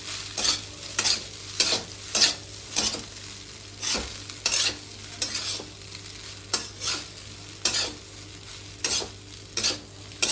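Egg is being stirred into restaurant-style fried rice in a hot pan, a rhythmic series of about fifteen scraping strokes over a constant sizzle, close and fairly loud with no talking.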